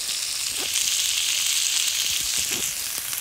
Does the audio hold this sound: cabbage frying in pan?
yes